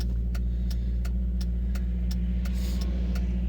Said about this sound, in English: there's actually some traffic on the road today